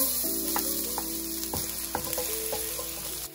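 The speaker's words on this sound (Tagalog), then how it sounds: "igisa na natin yung ating bawang" Garlic sizzles and crackles in hot oil in a pan, a steady close frying hiss with light clinks of a utensil stirring, no talking.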